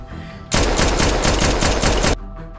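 Rapid automatic gunfire from a gangster action film scene about a hitman's revenge, a loud continuous burst of shots lasting under two seconds, set against quieter background sound before and after.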